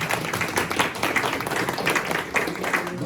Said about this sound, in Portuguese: Uma salva de palmas para a Lúcia Souza